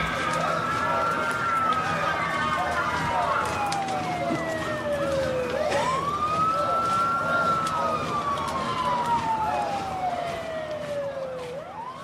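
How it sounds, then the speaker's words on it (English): A wailing siren sweeps slowly up and down, loud and sustained, with a busy background mix and some voices underneath. "Always an ambulance pulling up."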